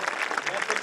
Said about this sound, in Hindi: एक बार जोरदार तालियां बजाइए सर के लिए।